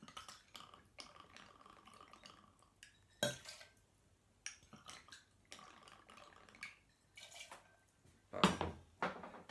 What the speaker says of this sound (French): Glaçon, on va mettre 4-5 pièces de glace.